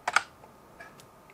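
A few quick keyboard keystrokes clatter up close while someone types in a BIOS file name, a brief cluster of clicks followed by a couple of lighter taps.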